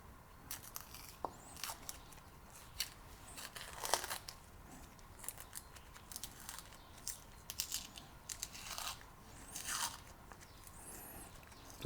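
A cervelat sausage has its skin peeled off by hand, giving soft, scattered close crinkling and tearing snips spread across the whole stretch, quiet overall.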